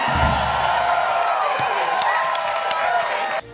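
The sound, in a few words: audience applause and cheering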